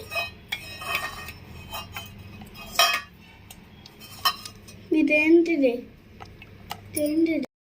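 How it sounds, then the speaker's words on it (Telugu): A spoon clinks and scrapes against a bowl while it presses grated coconut to squeeze out coconut milk, giving a scatter of sharp metallic taps under a voice speaking throughout. "స్పూన్తో కొంచెం గట్టిగా ఇలా అంటే పాలు అనేవి ఇందులోకి దిగిపోతాయి"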